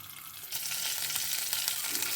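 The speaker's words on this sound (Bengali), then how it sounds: "এবার এই তেলে আমি দিয়ে দেব একটা কাঁচা লঙ্কা আর সামান্য একটু কালো জিরে ফোড়নে।" A green chili and a pinch of black cumin hit hot oil left from frying foli fish, and a bright hiss of sizzling jumps up and then holds steady and loud close by.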